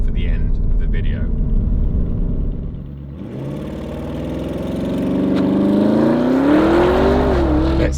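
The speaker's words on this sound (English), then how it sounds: "Let's test out this car's acceleration figures." A Porsche Cayenne Turbo GT SUV with a 640 hp engine pulls away from low rumble into a strong, rising acceleration, the engine note climbing steadily and growing louder over several seconds, heard from inside the cabin.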